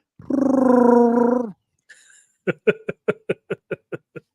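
A human voice imitates the Star Wars Chewbacca roar with a sustained, moaning growl, followed after a short pause by a rapid series of about nine clipped, rhythmic grunts, all close and alone.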